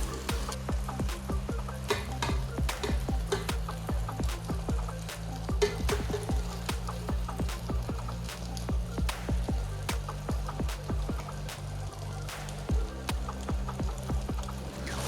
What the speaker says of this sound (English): I stir fry the rice with the veggies in order to get a good fried rice mix.